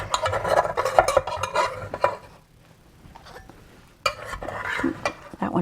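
Goat cheese popovers being pried out of a well-buttered pan, with scraping, clinking metal and soft knocks of pan handling in bursts, a quieter pause in the middle, then more clattering.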